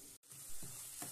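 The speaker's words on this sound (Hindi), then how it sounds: "इसको फ्राई करते रहे" Tomatoes and masala frying in a pan for Amritsari chicken give off a soft, steady sizzle, broken by a brief stir and a short pause in the middle.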